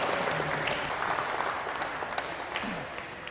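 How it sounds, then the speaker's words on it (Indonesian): Studio audience applauding on an Indonesian television debate show about amending the 1945 constitution, a steady broadband wash of clapping held at even loudness for a few seconds with no talk over it. "Baiklah, kita berikan aplaus."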